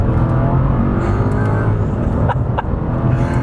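A Mercedes CLK DTM engine roars loudly and continuously from inside the car, its pitch rising and shifting as it accelerates hard.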